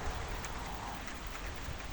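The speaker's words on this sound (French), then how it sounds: "il pleut, mais il pleut de malade, vraiment" Heavy rain in a thunderstorm makes a dense, unbroken roar of falling water, steady and fairly faint throughout with no voices.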